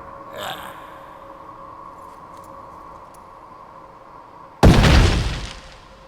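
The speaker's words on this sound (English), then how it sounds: "And there you saw that little explosion." A small explosion goes off from burst shoes in the Haunting Ground video game, a single loud sudden blast late on that decays over about a second, after a quiet stretch with a soft low hum and faint clicks.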